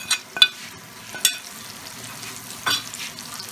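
Tomatoes, curry leaves and chopped green chillies frying in a pan for baingan bharta masala, giving a soft continuous sizzle broken by a few sharp clinks of stirring, close by and with no voices.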